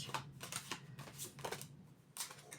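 Tarot cards handled and laid down during a card reading, a run of quick papery flicks and soft slaps in irregular bursts, close and fairly quiet with no talk.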